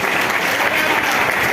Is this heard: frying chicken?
no